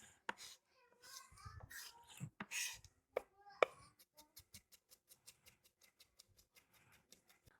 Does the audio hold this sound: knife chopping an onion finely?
yes